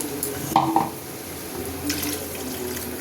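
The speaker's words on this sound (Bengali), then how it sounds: "এবার জল দিয়ে দিলাম" Water splashes into a cooking pot holding a gandal leaf curry, a close, steady trickle with a couple of brief louder splashes near the start. No one speaks.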